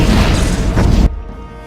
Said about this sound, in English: Explosion of Mine.